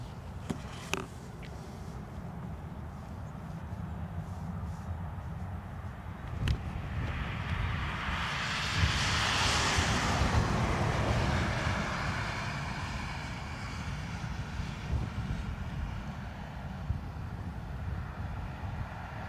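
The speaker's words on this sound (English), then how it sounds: "Aircorp Pilatus PC-12 is what we heard." An Aircorp Pilatus PC-12 turboprop passes overhead near Dublin Airport, its propeller drone swelling gradually to a peak and fading away again, with wind buffeting the microphone and occasional sharp knocks.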